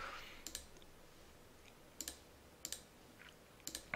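A computer mouse clicks about five times in sparse pairs of sharp, close taps over a quiet background hiss, with no talk.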